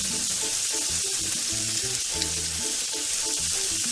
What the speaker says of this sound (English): now we're just gonna cook the bacon, and then we'll be back when it's nice and crispy and brown